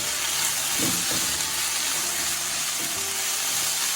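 Soya chunks frying with chopped tomato in a pan give a steady close sizzle, with a few soft scrapes of stirring through the hiss.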